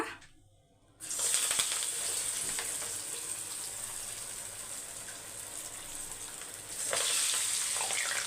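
Drumstick leaf vada drops into hot oil after a second of near silence, setting off a loud, steady sizzle that swells again near the end, with no one talking.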